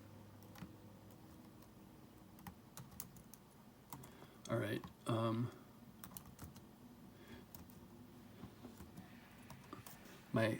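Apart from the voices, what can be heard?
typing on a computer keyboard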